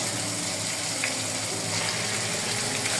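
Garlic paste and whole garam masala sauté in a pan, giving an even, loud, close hiss of frying that runs unbroken throughout, with faint stirring touches beneath.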